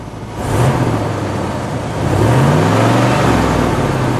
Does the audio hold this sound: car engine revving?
yes